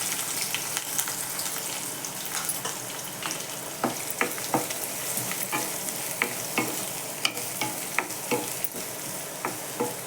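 Onion frying with curry leaves in a home kitchen pan while being stirred, a steady sizzle broken by repeated scraping clicks of the spoon throughout.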